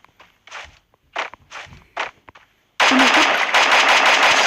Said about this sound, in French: On m'a tiré dessus ou pas là?